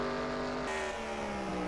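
A stock race car at Sonoma arrives on pit road in a racing video game: a loud, sustained engine whine that shifts pitch midway as the car slows, close and continuous for under two seconds.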